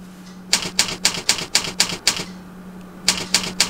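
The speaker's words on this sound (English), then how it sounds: "The beautiful natural typewriter effect you will learn to create today in PowerPoint" A realistic typewriter typing effect: crisp mechanical keystrokes in a steady rhythm, eight quick strikes, a brief pause, then four more, close and clear over a faint steady hum.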